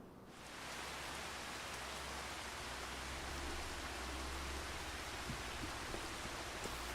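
Spring rain falls in the farming game Farming Simulator 25 on an early morning, a steady, dense hiss of rainfall that fades in quickly and then holds evenly throughout.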